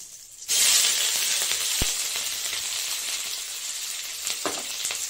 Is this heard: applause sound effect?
no